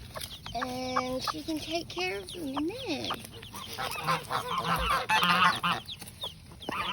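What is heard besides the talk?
newly hatched baby chickens and hen clucking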